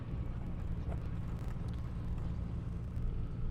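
Chevrolet Camaro ZL1 drag car at an airstrip drag event, a steady loud low engine rumble running continuously without a break.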